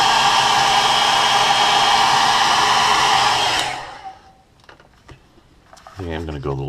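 A heat gun blows steadily for about three and a half seconds to heat-set fresh paint on a walleye-pattern crankbait lure. It cuts off, then light handling clicks follow and a voice begins at the end.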